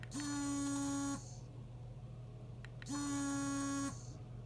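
A long-range dog training collar vibrates in two sustained buzzing pulses about a second each, separated by a short pause, close by and steady, with no talking.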